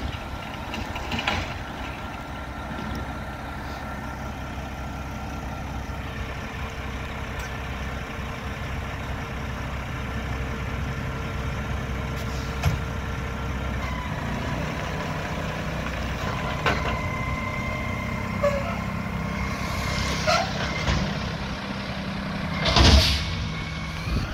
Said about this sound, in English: I'll be able to get you guys a Groot front loader garbage truck with the forks on it for a dumpster